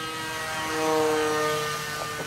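A small RC foam easybuild model jet cruising at half throttle on a 2-cell battery, giving a steady whining electric drone with tonal harmonics that swells slightly as it passes, no talk.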